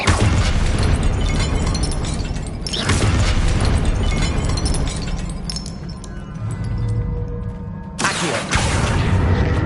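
Confringo fire spells burst repeatedly during a Hogwarts Legacy duel, with loud booming blasts near 3 and 8 seconds over a dense, continuous layer of spell effects and combat noise.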